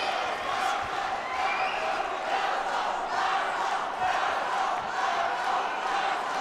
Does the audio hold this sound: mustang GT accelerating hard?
no